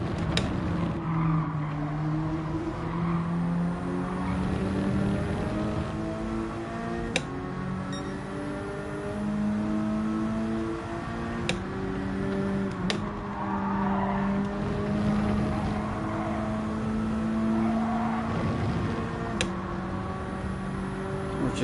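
A Nissan Silvia and a GTR race in Gran Turismo 7 with steady, droning engine notes that rise and fall through gear changes. Occasional sharp clicks and ticks cut in, with faint commentary in the background.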